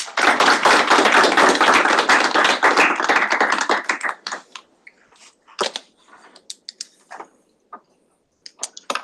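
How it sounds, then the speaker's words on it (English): An audience at a student government gathering applauds the Dean of the Day with dense, steady clapping for about four seconds, then a few scattered claps and taps trail off into near silence. "We can clap for our Dean of the Day."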